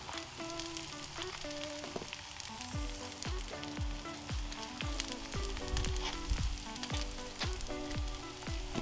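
Burger buns toasting on a Red Monument four-burner griddle, a soft continuous sizzle with scattered crackles and some clinking, fairly faint and close, with no speech.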